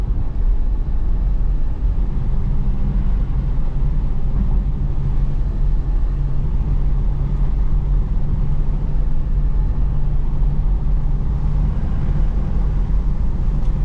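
Chevrolet SS doing donuts on a wet road at night: a continuous low engine rumble with steady droning hum and wet road noise throughout, no speech.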